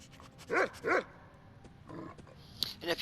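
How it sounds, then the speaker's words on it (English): An armored dog from the Skyrim Dawnguard DLC barks twice in quick succession, loud and near, followed by softer barks and yips over game background sounds. "it's an actual dog from the Dawn Guard DLC"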